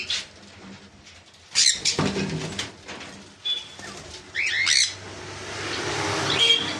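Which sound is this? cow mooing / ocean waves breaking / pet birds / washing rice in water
pet birds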